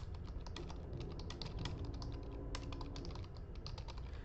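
Rapid keystrokes on a computer keyboard as a check-in comment is written, a dense, steady run of close, crisp clicks with no talking.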